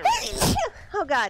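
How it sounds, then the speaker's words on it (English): A single sharp sneeze bursts out close and loud mid-session during a video game, preceded and followed by a voice speaking. "I got a sneeze."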